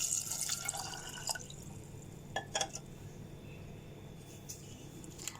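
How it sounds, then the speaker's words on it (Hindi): Water is poured into a pressure cooker holding rajma, giving a faint splash followed by scattered drips and light clinks of metal, with no talking. "1 कप हम पानी ऐड कर रहे हैं"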